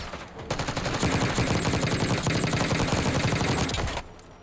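Sustained automatic gunfire in Black Ops 6, a loud rapid burst of shots lasting several seconds, beginning abruptly and cutting off near the end, with no talk over it.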